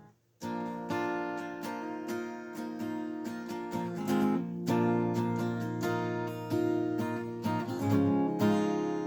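Full, ringing guitar chords strummed steadily in a repeating pattern, loud and close, with chord changes every couple of seconds and no voices.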